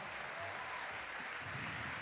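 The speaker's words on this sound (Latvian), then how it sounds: "Lūdzu, tātad aplausi" Audience applauding at a conference event, a steady dense patter of clapping from a room full of people, quiet and continuous throughout.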